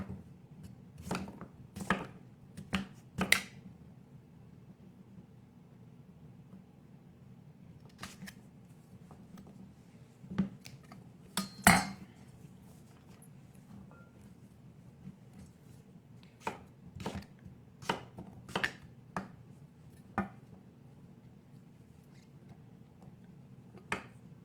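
A knife chops a roughly 2-pound butternut squash into irregular pieces. Sharp, crisp cuts land in uneven bursts with short pauses between them, close and clear over a quiet background.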